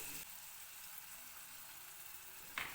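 Crushed shallots and ginger frying in oil for a Kerala-style sardine curry, a faint steady sizzle throughout with a brief louder crackle near the end.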